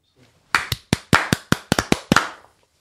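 About nine sharp hand claps in a steady, slightly uneven rhythm, loud and close, with a quiet pause before they start.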